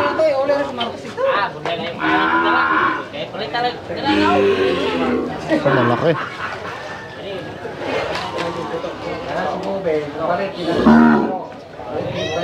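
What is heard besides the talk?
bull mooing at a livestock market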